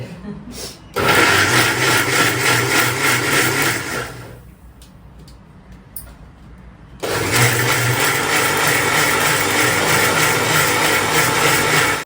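A mixer grinder blends juice with a loud, close, steady motor whine that runs for a few seconds, stops briefly, then starts up again and keeps running to the end.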